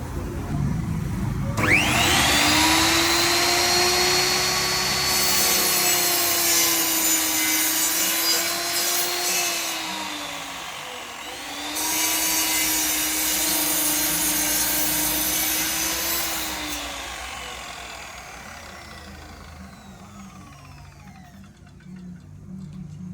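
A power saw whines steadily as it cuts excess wood from an acoustic guitar neck, two long continuous cuts separated by a brief dip, the tone wavering slightly before fading out near the end.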